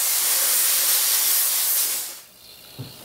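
A steam cleaner blasts a loud, close hiss onto jewelry for about two seconds, then cuts off, leaving a quiet pause and a small knock.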